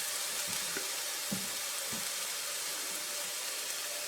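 Venison burger sizzles in a frying pan beside onions and mushrooms, giving a steady, soft hiss with a few low clunks and scrapes as the meat goes in.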